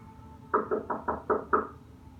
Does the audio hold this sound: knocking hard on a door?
yes